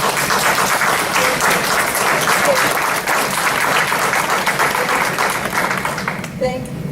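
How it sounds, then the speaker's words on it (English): Audience at a city council meeting applauding the police department and public safety workers, loud sustained clapping from the room that tails off at the end as a voice begins. "I think we should all give them an amazing round of applause"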